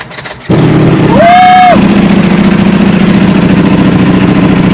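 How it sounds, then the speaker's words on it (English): A Ducati V4 SP motorcycle with a dry clutch starts up with a brief starter whir, then settles into a loud, close, steady idle with a rattling, throbbing mechanical texture. "Would you care to turn it on so we can hear that dry clutch?"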